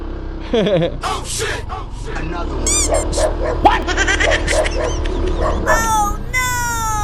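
Several dogs bark and yip excitedly, close and overlapping, with a person talking loudly among them.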